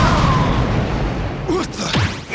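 Ships open fire in the video game Asura's Wrath, loud booming blasts and whooshing bursts with descending tonal sweeps over a dense rumbling battle backdrop.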